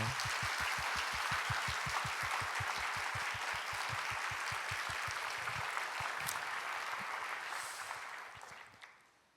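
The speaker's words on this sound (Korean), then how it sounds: "우리 특별히 중등부 교육자 선생님들을 위해서 다시 한번 박수 한번." A church congregation claps in steady unison for middle-school teachers, a dense rhythmic patter that carries on for several seconds before thinning out and fading away.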